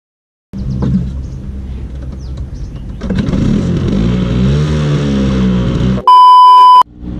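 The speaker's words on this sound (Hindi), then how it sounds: "तो गाइस ये पहली किक में स्टार्ट हो गया" A long-unused Bajaj Chetak scooter kicked to life: an abrupt start, an engine idling with a low chugging rumble, then revving up louder and steadier, near and alone, ending with a loud electronic beep tone.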